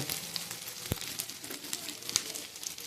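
Cumin and turmeric powders sizzling in hot oil with ginger-garlic paste for a Bengali green banana curry, a steady soft hiss with light crackles and one brief sharp tick midway.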